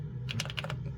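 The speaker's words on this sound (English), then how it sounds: "The keyboard on this is really nice." Quick, quiet clicks of typing on the keyboard of a vintage home computer such as a Commodore 64 or MSX-2, with Alps switches, over a low steady hum.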